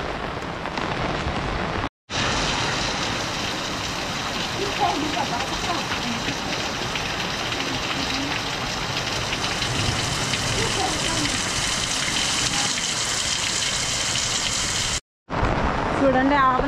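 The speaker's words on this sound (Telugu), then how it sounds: "పెద్ద వర్షం వస్తుందండి." Heavy monsoon rain pours steadily in the Araku tribal hills, a loud, dense wash of drops that runs the whole stretch with two brief cut-outs.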